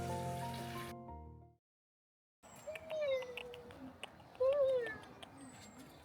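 A cat meows twice, a few seconds apart, quiet and fairly close over faint background noise, after a short silent gap.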